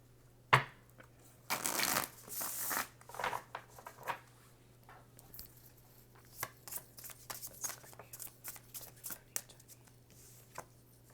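Tarot cards are shuffled by hand in quick riffles and soft flicks, a burst of dense shuffling followed by scattered shorter snaps and taps nearby.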